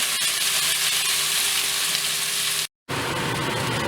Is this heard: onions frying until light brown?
yes